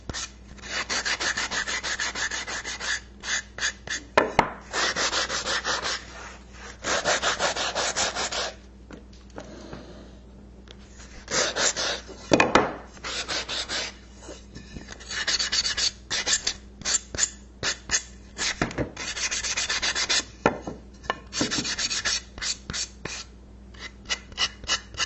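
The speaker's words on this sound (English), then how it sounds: "I have a piece of wood that I've cut out, about 6 inches by 6 inches, and I just need to sand the edges" A cut piece of wood about six inches square has its edges sanded by hand, giving close, steady rasping strokes in repeated runs with brief pauses between them.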